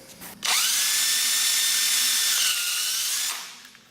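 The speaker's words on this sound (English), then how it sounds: "You see how I'm making progress, making this more into a tapered socket, and I'll probably finish it with a 1/4 inch drill bit." A drill bit bores out and widens a tapered socket, with a 1/4 inch bit for the finish. A loud, steady high whine runs close up for about three seconds, shifts pitch briefly near the end, then winds down and fades.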